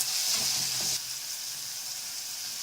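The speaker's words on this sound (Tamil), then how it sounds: "இப்போ பாருங்க, வெங்காயம் வணங்கிட்டு இருக்கு" Onions sautéing in hot oil give a bright, steady hiss, louder for the first second with a couple of soft stirring knocks, then settling into a quieter even sizzle, no voices.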